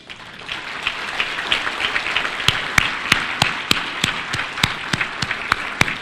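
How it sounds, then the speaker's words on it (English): Audience applause at a national prayer breakfast in a large hall, a steady wash of many hands clapping, with a few sharp, louder claps standing out near the middle and end. "the round of applause you gave him"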